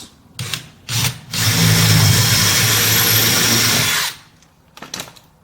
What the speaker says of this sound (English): And I'm also drilling through metal.